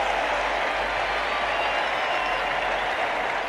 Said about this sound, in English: the Red Sox take the field to the roar of this great crowd